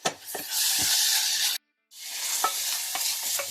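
Onions sizzle in a pan as they soften for rice, a loud close hiss with a few stirring scrapes, broken by one brief silent gap before the frying resumes.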